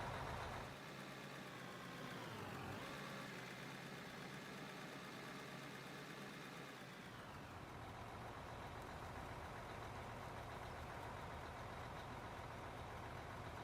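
A steady, low rumbling haul truck engine idling in the mining game Out of Ore, droning continuously and fairly faint, with a gear-like pitch drop partway through and no voices.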